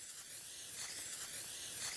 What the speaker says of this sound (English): After coating them with cooking spray,